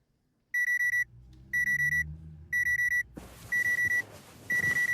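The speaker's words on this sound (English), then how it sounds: "let's set our alarm" A video-game alarm clock beeps in rapid trilling bursts, repeating roughly once a second, clean and close at first, then continuing over a sudden rush of ambient background noise.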